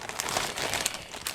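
Paper and plastic packaging from a craft kit crinkle and crumple as they are folded together, with quick close rustles that go on throughout.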